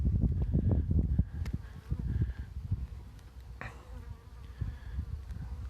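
A honeybee swarm buzzes around hives near tree limbs, a house and a barn outdoors, a steady close insect drone with occasional rustling and wind bumps throughout.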